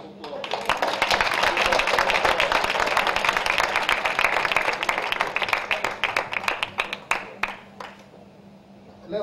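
An audience at a panel on police brutality at a 2015 convention claims a round of applause, sustained dense clapping that swells, then thins into scattered claps before fading near the end.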